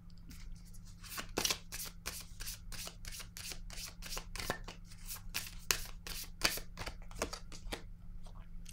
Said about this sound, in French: Là, je vais déposer une carte pour ici.